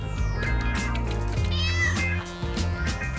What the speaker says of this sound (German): Komm runter, Katze. Ich hab Fisch für dich.